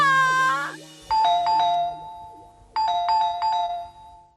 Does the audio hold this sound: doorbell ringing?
yes